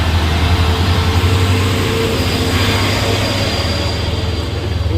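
A heavy trailer truck's engine drones loud and steady climbing a steep hill, a deep low rumble straining continuously under load.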